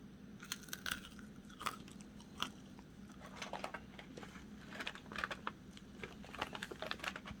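Crunching bites and chewing of sea grapes (umibudo seaweed) eaten close to the mic, with irregular crisp pops and crackles scattered over about seven seconds against a steady low hum.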